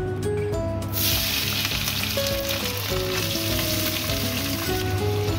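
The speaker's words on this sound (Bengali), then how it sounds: "আমি এর মধ্যে দিয়ে দেব পেঁয়াজ কুচি।" Chopped onion hits hot oil already holding black cumin and dried chili, crackling into a loud, steady sizzle with faint stirring scrapes throughout.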